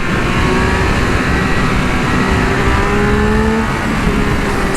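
A Triumph Speed Triple 1200 RR motorcycle engine roars loudly and continuously as it accelerates, with rising whine and heavy wind rush throughout.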